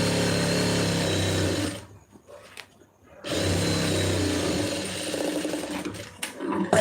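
A sewing machine stitches the lining of a blouse in a loud, steady whirring run, pauses briefly, then starts again and continues with a few uneven bursts at the end.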